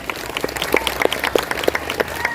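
Audience applause welcoming grandparents at a Grandparents Day celebration at a matriculation school, a steady, moderately loud patter of many hands clapping in a hall, with distinct claps standing out from the crowd.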